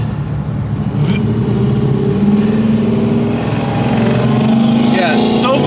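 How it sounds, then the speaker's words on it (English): A 2018 Porsche 911 GT3 Touring engine drones steadily from inside the cabin and rises with revs, while occupants talk over it throughout. "What do you think about the auto blip? It's obnoxious, but I like it."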